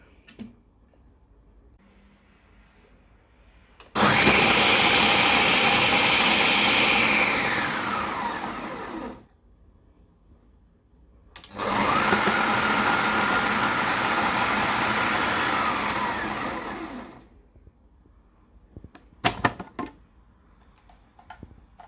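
A Bosch MultiTalent 8 food processor chops onion in two loud motor bursts of about five and six seconds each, its whirring drone rising in pitch, separated by quiet pauses and followed by a few light clicks and clatters.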